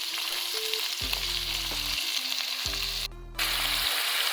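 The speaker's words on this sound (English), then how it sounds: "We're gonna stir it a little bit." Beef frying and sizzling in a pan for carne a la mexicana, a steady bright hiss broken by two long low rumbling bursts as it is stirred, with a brief louder scrape near the end.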